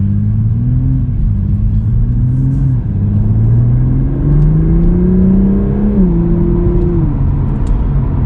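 A 2023 Toyota GR Supra engine hums steadily, then its pitch climbs as it accelerates, easing back and rising again in a continuous close, loud drone.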